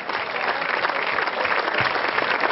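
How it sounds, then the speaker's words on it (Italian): Applause from an audience at a music festival awards ceremony as the winning band is announced, dense continuous clapping filling the room at close range, with no talk over it. "Un applauso in Kansas City, vincitori del YouTube Music Festival!"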